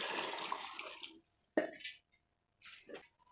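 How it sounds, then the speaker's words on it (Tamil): Water poured into a cooking pot for tomato rice, a close splashing gush for about a second and a half, then a brief splash and a couple of short trickling bursts with quiet gaps. "அளவு தண்ணி ஊற்றிக்கலாம்."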